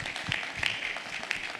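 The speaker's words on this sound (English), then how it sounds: "please give them a round of applause for their time" Audience applause for a panel at an engineering program open house, a steady wash of clapping with a few sharper claps standing out, moderately distant and fairly quiet.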